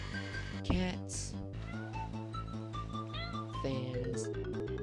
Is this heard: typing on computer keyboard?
no